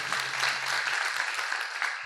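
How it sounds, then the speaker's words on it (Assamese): An audience at a cultural function claps steadily for an honoured singer, a dense wash of applause that fades slightly toward the end. "বৰাদেৱলৈ এটি হাত চাপৰি দিবলৈ অনুৰোধ জনাইছোঁ"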